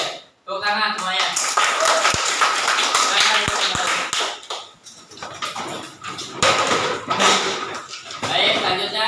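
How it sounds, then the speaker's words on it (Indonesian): Students in a madrasah tsanawiyah classroom clap in bursts of patterned taps and hand claps, loud and near, broken by brief pauses, with voices chanting or talking among the claps. "Oke, tepuk tangan semuanya."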